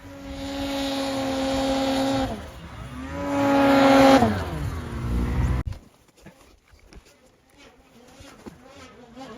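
A Lynx turbo snowmobile engine runs close by in the backcountry with a strong, steady tonal drone that rises and falls as it revs, then cuts off abruptly to quieter rustling and handling noise.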